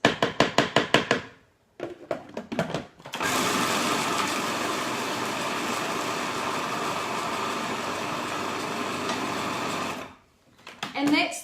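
Food processor blending a lemon bliss ball mixture, opening with a series of short rhythmic pulses, then a loud continuous whirring grind for about seven seconds that cuts off, followed by a few more brief bursts.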